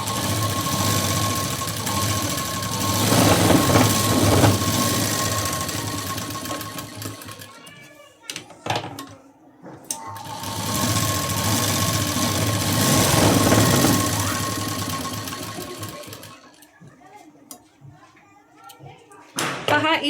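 A sewing machine runs steadily in two long stitching bursts while sewing a double line of stitches along tucks in a garment, with brief pauses and handling noises between runs.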